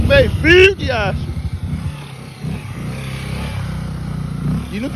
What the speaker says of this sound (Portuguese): A moto tá muito rápida